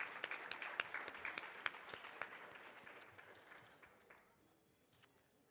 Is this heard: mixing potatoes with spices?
no